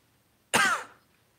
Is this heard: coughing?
yes